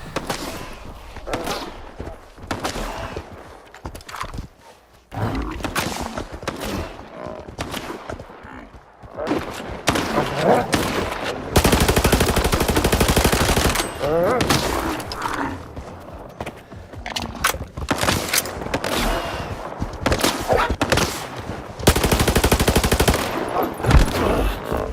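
Rapid automatic gunfire from a firefight with a beast in S.T.A.L.K.E.R. 2 rattles in long, loud bursts, broken by short pauses and mechanical clicks of reloading.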